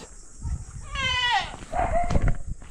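A goat bleats once, close and clear, with a wavering drawn-out call followed by a shorter second bleat over faint outdoor background noise.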